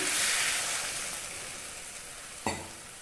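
Okra frying in a pan, with a broad hiss that slowly fades, then a sharp fresh burst of sizzle as a little water hits the hot pan near the end.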